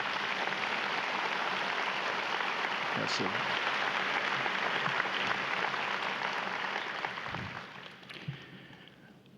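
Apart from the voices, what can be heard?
audience applause at graduation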